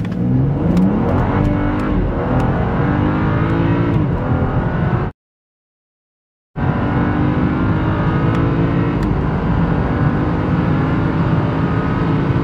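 A BMW F31 335i pulls away, its engine revving and accelerating loudly with rising tones, then cutting to silence briefly before the engine roar resumes steadily.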